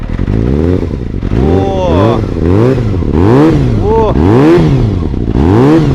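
A Yamaha XJR-400 four-cylinder motorcycle with a Taiwanese carbon exhaust revs repeatedly in loud, rising and falling surges, close by with a throaty exhaust note, roughly one rev per second.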